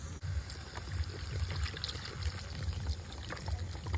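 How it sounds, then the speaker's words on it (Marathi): Water pours steadily into a cooking pot over a wood-fired clay stove while village-style chicken curry cooks, a continuous close trickle and splash running throughout without talk. "चांगलं पाणी टाकून"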